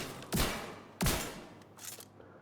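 Gunfire from a weapon in the video game The Division 2: two sharp, loud reports about two-thirds of a second apart, each trailing off in a short echo, then a fainter third crack.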